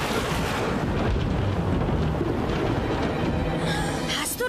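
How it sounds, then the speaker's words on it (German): Thunder from a lightning strike on a tree in a cartoon, a dense continuous low rumble and crackle filling the whole stretch, fairly loud with no speech over it. "Der Blitz hat gerade in den Baum eingeschlagen."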